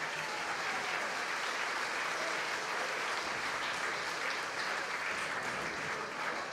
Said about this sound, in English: Give the, all the cast a huge round of applause,